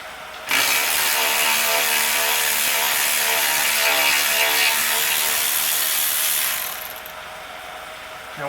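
A ratchet wrench clicks rapidly and steadily for several seconds while loosening bolts on aftermarket control arms under a Mazda, close up, then stops abruptly.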